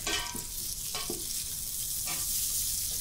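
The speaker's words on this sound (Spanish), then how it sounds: "Cocinamos las verduras a fuego fuerte." Steady, loud sizzling of vegetables frying on high heat in a hot pan for a homemade broth, with occasional stirring scrapes and no voices.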